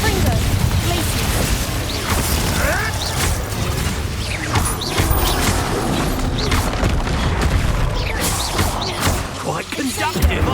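Spell combat in Hogwarts Legacy, with fire, blasting and ice spells going off as a dense, loud rush of booms, crackles and whooshes. A player talks over it throughout.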